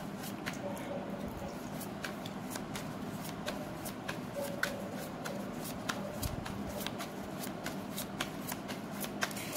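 Tarot cards being shuffled by hand during a Sagittarius reading, a steady papery riffle and slide with repeated crisp snaps across the whole stretch, close and continuous with no talk over it.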